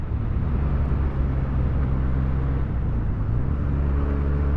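Benelli TNT 300 twin-cylinder motorcycle engine running while riding in Bangalore, a steady loud low droning rumble with wind noise, continuous and close, with no talking.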